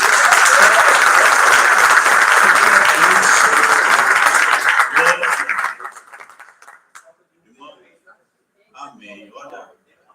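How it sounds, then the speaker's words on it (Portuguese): A church congregation bursts into loud, sustained applause during a Portuguese-language worship service, with laughter and voices in the crowd; the clapping fades out after about six seconds, leaving a few scattered claps and faint sounds. "Dê uma salva de palmas para ele."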